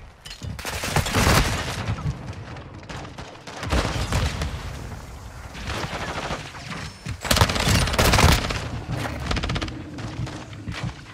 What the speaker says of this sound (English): Freaking grenade, of course.